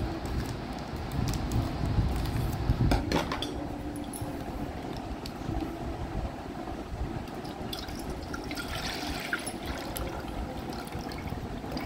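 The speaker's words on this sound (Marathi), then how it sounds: "आपण ते आता एका गंजामध्ये ओतून घेऊया।" Cream pours and trickles steadily into a pot, with faint dribbling and a few soft knocks over a low background hum.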